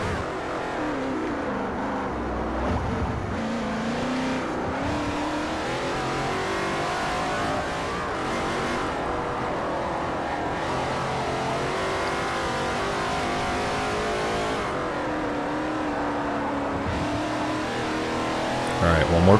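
A GT2 race car in a multi-class professional event in Forza Motorsport 4 gives a continuous loud engine roar, revving up and down through corners with brief gear-shift dips. Someone talks over it.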